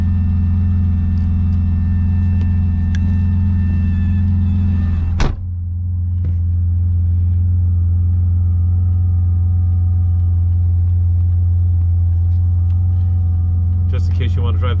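Air-cooled flat-six engine of a 1974 Porsche 911 running steadily, a loud continuous low rumble that dips briefly midway before settling back into an even idle, with faint clicks and rattles near the end.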